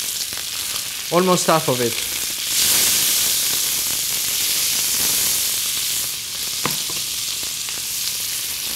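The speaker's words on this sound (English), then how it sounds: "I'm going to add some butter inside the pan" Butter sizzling in a pan beside a côte de bœuf rib eye steak, a close, steady frying hiss that swells after a short spoken remark and carries on with light clinks.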